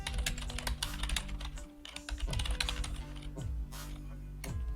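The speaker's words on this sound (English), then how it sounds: "We can just add plus plus on the next line and start typing." Rapid, irregular keystrokes on a computer keyboard fill the whole stretch, close and steady with a few brief pauses, over a faint background tone and no speech.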